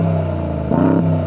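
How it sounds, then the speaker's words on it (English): Brabus-tuned Mercedes G63 with a deep, bassy exhaust, idling loud and close before a short, sharp rev swells and drops back, no voices. "Give it some revs."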